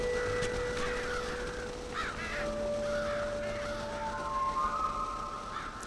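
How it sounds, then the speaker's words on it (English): Crows caw repeatedly in the Red Dead Redemption video game, harsh wavering calls over a steady outdoor ambience and faint whistling tones, with no talking. "Come on, crows."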